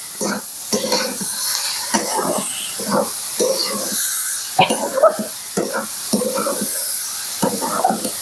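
Vegetables and daliya get stirred in a hot pan over a low flame, a steady sizzle running throughout with repeated scraping strokes of the spoon at an irregular rhythm, close and moderately loud.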